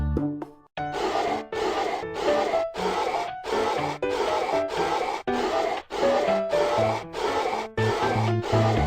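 Repeated rubbing strokes as a dirty car air conditioner is wiped clean in a car repair game, a steady series of about a dozen short, evenly spaced scrubbing sounds with a soft musical tone beneath.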